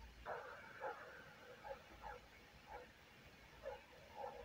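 A dog in the film Apocalypto barks in a steady series of repeated yaps over a constant hiss of background noise, moderately loud.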